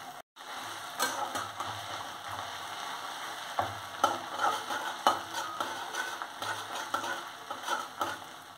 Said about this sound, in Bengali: আবার এই তেলে দেবো কারি পাতা ফোড়ন। কারি পাতাগুলো হালকা ভাজা ভাজা হয়ে গেছে।